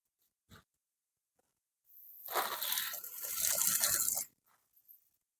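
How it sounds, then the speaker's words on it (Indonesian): Water pours onto potted aglaonema plants in a gushing splash lasting about two seconds, close and alone, framed by a few small knocks before and after. "Kita siram teman-teman."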